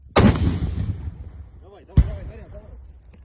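An artillery gun fires during the war in Ukraine with a loud, sharp boom that rolls away, followed by a second booming shot a couple of seconds later.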